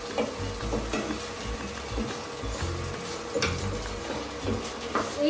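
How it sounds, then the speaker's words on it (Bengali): Vegetables and sausages fry in hot oil in a pan, a soft steady sizzle and crackle with occasional scrapes of a utensil stirring, fairly quiet and close, with no talking. "এটাতে আমি কিছু ভেজিস আর সসেজ ফ্রাই করে নেব"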